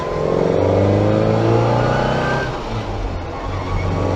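A manual car engine revs up steadily, drops briefly as it shifts into second gear, then climbs again, loud and close with no talking.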